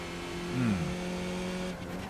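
Front wheels lock up on a Skip Barber race car at Tsukuba Circuit in iRacing, a brief falling tire squeal under the steady engine drone, fairly faint and close.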